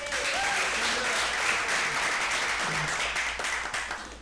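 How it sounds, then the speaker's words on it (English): An audience at a passive-income seminar breaks into a steady round of clapping as a speaker is called up, dense and sustained before tapering off, with faint voices mixed in. "Let's give her a round of applause."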